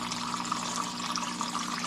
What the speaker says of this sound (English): Sorry for the pump noise.